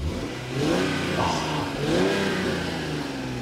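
A 2003 Lexus IS 300 Sport Design's engine revs up twice in quick swells, rising and falling at close range, with a person briefly exclaiming.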